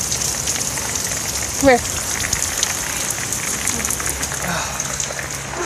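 Steady rain pours during a midnight thunderstorm with hail, hissing evenly and close throughout, with a brief voice calling out over it.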